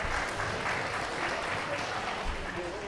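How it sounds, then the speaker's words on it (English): An audience at a debating championship grand final applauds the panel, a steady wash of clapping throughout. "Please give your panel a round of applause."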